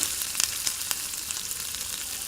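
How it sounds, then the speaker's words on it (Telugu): Onions fry in oil with cumin in a kadai, producing a continuous crackling sizzle with a few quick crisp pops near the start, close and fairly even. "ఈ ఆనియన్స్ అయితే లైట్ బ్రౌన్ కలర్ వచ్చేంత వరకు ఫ్రై చేస్తూనే ఉండాలి"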